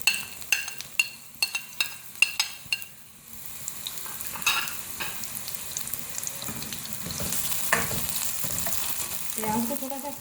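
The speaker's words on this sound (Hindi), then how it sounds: "प्याज को थोड़ा सा फ्राई करेंगे" Finely chopped large onion added to about three-quarters of a cup of hot oil, starting with a quick run of spoon taps, then a loud steady sizzle with occasional stirring scrapes, close and without talk.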